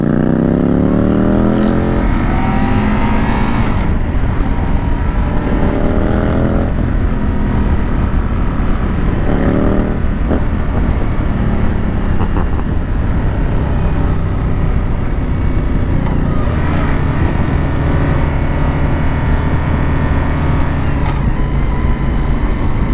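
Bobber motorcycle being ridden, engine rising in pitch through repeated revs as it climbs through the gears, with brief dips at each shift, loud and close with steady wind and road noise.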